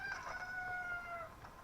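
A hen clucks and crows with a rooster-like call inside a Zelda video game, a single bright, drawn-out squawk that sits alone and clear without speech.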